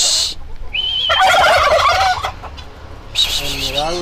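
A turkey gobbles loudly at close range in the Yelagiri hills, a rapid rattling burst in the middle followed by a shorter gobble near the end, with other fowl noise around it.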